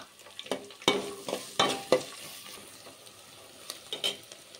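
Green chillies and chopped onions sizzle in a pan while a utensil stirs them, giving several sharp clinks and scrapes over a low, steady frying hiss, fairly quiet and with no talk.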